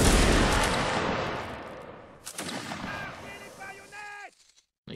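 A musket volley in the Napoleonic Wars game erupts as one long, loud, rolling crack of many shots, decaying over a couple of seconds, followed by scattered fainter reports and ringing metallic tones as the noise fades.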